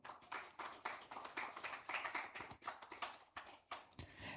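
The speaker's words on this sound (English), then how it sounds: "Let's have a round of applause for him." Sparse, uneven clapping from a small conference audience at a digital policy event, quiet and intermittent with distinct individual hand claps rather than a full roar.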